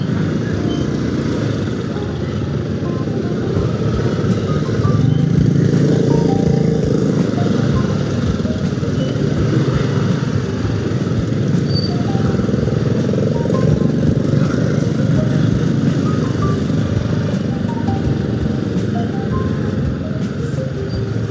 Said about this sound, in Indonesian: kita ke kemacetan lagi nih teman-teman, kena macet lagi.